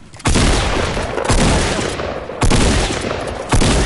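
Loud bursts of rapid gunfire repeat in quick succession, each volley starting abruptly and filling the clip with dense, close-range shooting.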